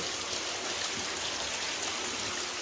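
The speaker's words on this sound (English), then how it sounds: "There's water flowing everywhere, but it's raining really heavy out." Heavy rain with water gushing into an old lead mine, a dense, steady wash of falling and rushing water with no break, fairly quiet and heard alone.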